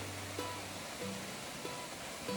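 Waterfall at Basin Creek Falls in western Colorado, a steady broadband rush of falling water heard alone, moderately faint and unbroken, with a few faint tonal blips over it.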